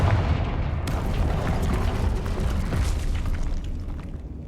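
Confringo spell explosion in Hogwarts Legacy: a heavy booming blast with crackling burst and rumbling decay, loud and alone, fading over a few seconds.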